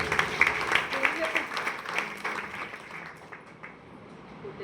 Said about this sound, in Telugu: చప్పట్లు.